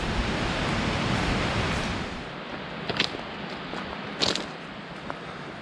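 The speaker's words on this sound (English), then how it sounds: "And there's the rapids, the falls." Rapids and a waterfall in the Blackwater Canyon gorge give a continuous rushing wash of water, fairly loud and steady, with a couple of brief clacks in the second half.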